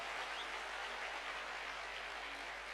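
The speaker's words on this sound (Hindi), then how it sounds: "और जो चाहते होंगे जोरदार तालियां बजाएंगे।" Audience applause at a Hindi business seminar, a steady, dense wash of clapping held at an even level throughout, fairly faint and with no voices on top.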